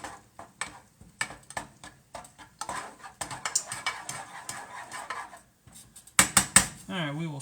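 Garlic is stirred in a pan with a utensil for parmesan-crusted salmon, giving a series of sharp close clinks and scrapes against metal in an irregular rhythm, with brief pauses and a short voice near the end.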